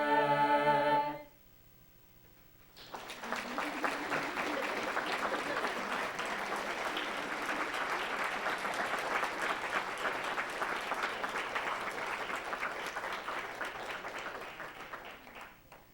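A brief chant from the performance ends, then after a short pause a full room breaks into sustained applause at a board meeting, steady clapping that slowly tapers toward the end.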